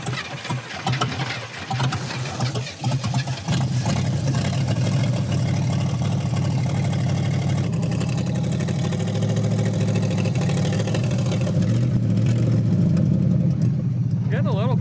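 A Chevelle's V8 engine roars steadily and loud during a burnout attempt, a sustained close rumble that builds and holds, with some speech over it.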